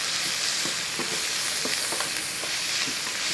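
Green chillies fry in a hot pan while being stirred, giving a steady loud sizzle throughout with faint scraping stir sounds scattered through it.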